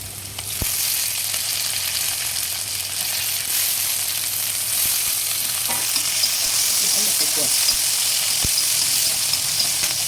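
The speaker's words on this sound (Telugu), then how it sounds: "వేగినాక ఆనియన్ పచ్చిమిర్చి కూడా వేసి దీంట్లో ఇప్పుడు కరివేపాకు వేసుకోవాలి" Onion, green chillies and curry leaves frying in hot oil for veg semiya, a steady close sizzle across the whole stretch with a few sharp clicks of a spoon against the pan.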